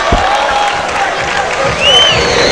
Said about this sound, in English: these two getting a round of applause from the crowd here